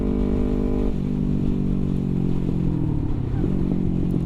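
A Kawasaki Ninja 250R sports motorcycle is ridden, its engine droning loud and close with a steady mid-pitched hum that dips and rises slightly as the revs shift, over constant wind noise.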